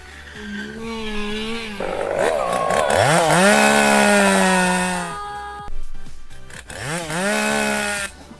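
A chainsaw engine revs and whines loudly in bursts, rising and falling in pitch, with a brief drop-out near the middle before it roars back up, in a comedic skit setting.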